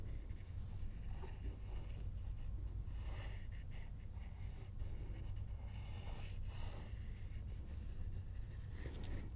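A pencil scratches and scribbles on paper while an Eastern Grey Kangaroo is drawn, a faint, continuous rough rasp close to the microphone over a low background rumble, with no voice.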